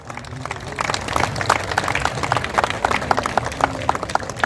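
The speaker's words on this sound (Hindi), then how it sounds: "जोरदार तालियों के साथ।" An audience at a golden jubilee music ceremony applauds a composer being honoured: dense, lively clapping that builds and carries on steadily with a few louder claps, with a faint murmur of voices.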